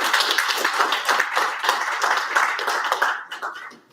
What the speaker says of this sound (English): everyone, please, a round of applause for Clare as we get started